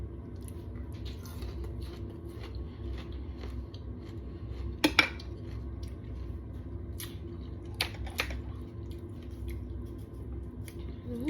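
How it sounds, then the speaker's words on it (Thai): Faint scattered taps and clinks of a knife slicing sour fruit against a plate, isolated and quiet over a low room hum. "เดี๋ยวขออนุญาตหั่นอีกก่อน"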